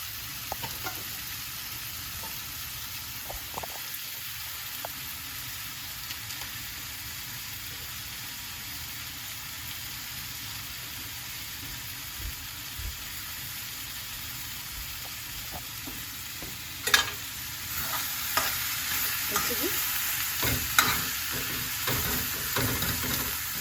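Food sizzles in a pan for a gut-friendly dish with cilantro while it is turned and mixed. A quiet, even frying hiss carries on with scattered scrapes and clicks, then grows busier and louder near the end.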